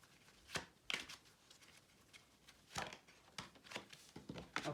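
Tarot cards shuffled by hand in several quiet, irregular riffling bursts and shuffles, close and alone.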